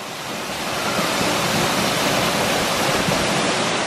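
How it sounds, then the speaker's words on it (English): Waterfall in the Rocky Mountains heard from close by at its base, a loud, continuous roaring rush of falling water that fills the whole stretch without pause and without any talking. "It's so cool at the bottom of a waterfall how you can feel the mist and the breeze."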